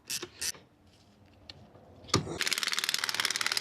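Tools work on a Honda Fit GE8 strut fitted with an HR-V spring while the top nut and mount hardware are tightened, giving a couple of early clicks and then a rapid, steady ratcheting burst close by.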